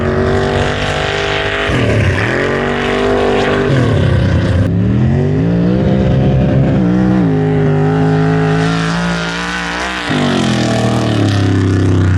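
A truck engine revs hard and continuously at a mud bog event, rising and falling in pitch as it powers through thick mud, loud and close the whole time with no talking.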